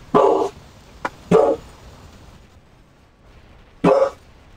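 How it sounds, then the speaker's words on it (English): Several dogs bark in the background at night, three short loud barks with a faint yip between them, separated by quiet gaps. "we're having a dog barking competition in the background"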